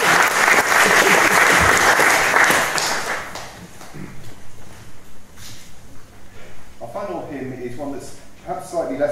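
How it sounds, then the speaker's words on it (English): A crowd at a memorial service breaks into loud, sustained applause that fades out after about three seconds, after which a voice speaks over quieter room sound. "So shall we just give a round of applause to everyone who's been here."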